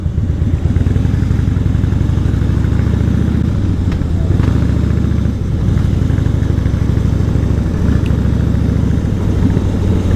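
A Harley-Davidson Fatboy fitted with baffled exhaust idles loud and close, a deep throaty lumpy rumble that pulses steadily throughout.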